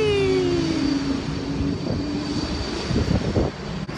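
An airplane at London Heathrow airport drones loudly and steadily, its engine whine gliding downward in pitch as it passes close by, with no one speaking.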